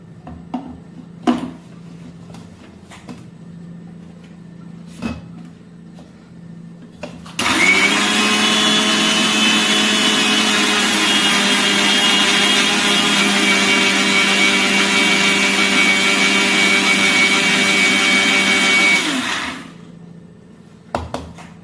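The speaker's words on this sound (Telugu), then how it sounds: "ఇదంతా మిక్సీ జార్లోకి తీసేసుకుని మనం మిక్స్ చేసుకోవాలి" A mixer grinder jar grinds household ingredients into fine powder for a homemade brass-cleaning powder, giving a loud, steady whirring roar for about twelve seconds between quieter handling knocks.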